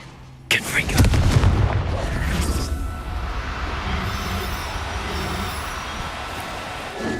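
A Confringo fire spell going off in Hogwarts Legacy, a sudden sharp blast followed by a heavy roaring explosion that rumbles and slowly fades into a long, hissing, crackling tail, loud and close.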